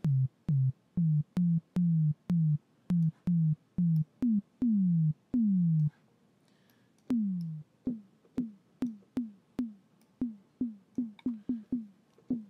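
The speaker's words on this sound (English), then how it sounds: "So it's starting already to have that synthy tom sound" Synthesized tom drum from a Logic ES2 sine wave with downward pitch sweep, a rapid series of short clicky hits that each drop in pitch, a pause, then slower decaying repeats, faint and alone.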